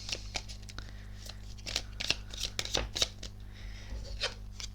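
Tarot cards are shuffled in a string of quick, crisp riffling bursts close up, with a faint steady hum underneath.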